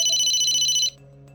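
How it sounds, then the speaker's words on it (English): A telephone ringtone rings loudly and alone in the Corpse Party: Blood Drive video game, a steady electronic trill that runs for most of a second and then cuts off abruptly, leaving a quiet hum. "Oh, phone call."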